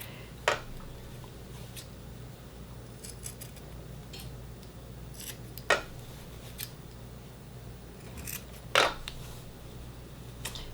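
Scissors trim the fabric seam allowance of a face mask, three sharp isolated snips spaced seconds apart over a soft, quiet room background.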